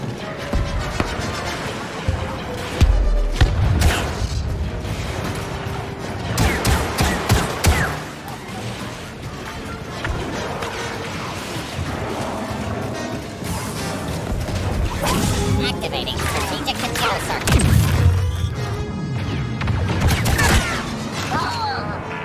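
Dense, continuous barrage of game combat in Star Wars Battlefront 2, with grenade blasts and rapid turret fire crashing over one another at steady high intensity, interspersed with voice callouts.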